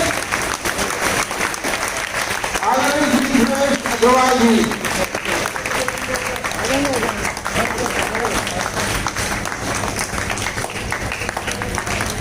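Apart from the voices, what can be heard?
audience applauding guest at karate championship opening ceremony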